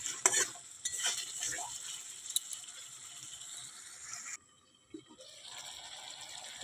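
Potato pieces sautéed in a pan ahead of cauliflower give a quiet, close sizzle with brisk spatula scrapes early on; the hiss suddenly drops away for a moment near the end before picking up again.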